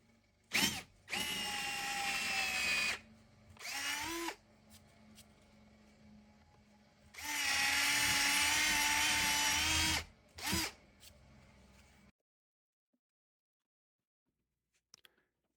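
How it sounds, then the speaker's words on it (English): Power drill boring a hole through a piece of wood for a bandsaw circle-cutting jig, with several loud whining bursts of varying length separated by short pauses, then quiet. "what I'll need to do is make a hole for my circle cutting jig to hold the piece of wood."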